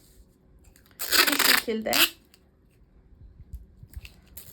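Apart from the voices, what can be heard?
adhesive tape being torn and applied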